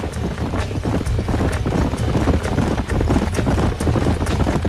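Horse hooves galloping in Red Dead Redemption, a fast, steady rhythm, close and loud, with a faint rush of wind behind.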